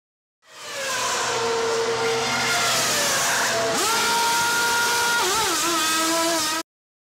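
A Ferrari Formula One car revs and roars through a pit stop tyre change, a loud, steady, high-pitched engine scream that holds for several seconds, drops and shifts pitch, then cuts off abruptly.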